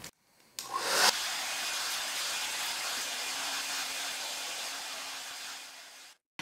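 Hair dryer blowing steadily on curly hair, a loud continuous airy whoosh that switches on after a brief handling noise and runs alone for about five seconds before cutting off.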